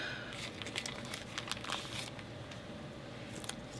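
Thin foil rub-on transfer sheets being handled for a snow globe holiday scrapbook layout, giving soft, close crinkling and rustling with a few sharper crackles over a steady low room hum.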